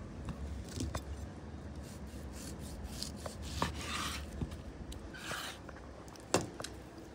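A knife cuts cooked beef into small pieces for salpicón, making quiet, irregular chopping taps against a cutting board, with some brief scraping between cuts and no speech.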